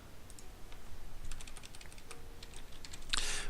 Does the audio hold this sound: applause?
no